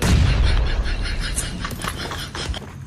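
Rapid bursts of PUBG Mobile gunfire crackle in quick succession, loud and close, with a continuous din of shots and no voices.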